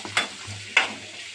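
Garlic and ginger hit a pan for a prawn curry, giving two short, soft bursts of sizzling and stirring with quiet pauses in between.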